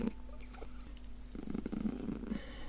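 A cat purrs softly and close by in a steady low rumble that swells a little near the end, with nothing else over it.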